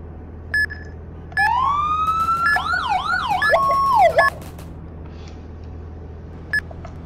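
A Dodge ambulance siren in Roblox ERLC wails in a few rising and warbling bursts, with short electronic beeps before and after, over a steady low engine hum.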